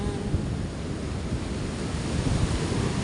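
Water waves washing continuously on a flooded shore near houses, a dense steady rush with wind noise buffeting the microphone, no voices.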